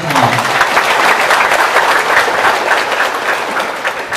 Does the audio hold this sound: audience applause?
yes